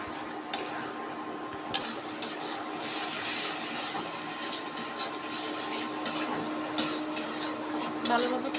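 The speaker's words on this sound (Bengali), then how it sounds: "পেঁয়াজ ময় মশলা যা যা দিয়েছি সব কষিয়ে নিচ্ছি" Onion and mixed spices sautéing in a pan on a home stove, a steady close sizzle with intermittent scraping and stirring clicks from a utensil, continuous for several seconds with faint background hum.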